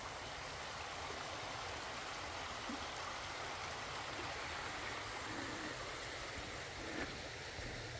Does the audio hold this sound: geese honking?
no